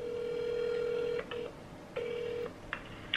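Touch-tone telephone dialing while calling a hotel: a series of electronic keypad tones, one long tone followed by shorter beeps with brief gaps between them, heard clearly with no talking.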